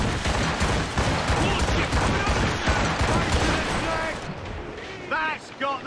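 Ship cannons fire in Assassin's Creed Rogue during a naval battle, dense overlapping booms and blasts rolling almost without pause, while a crew voice shouts over the barrage.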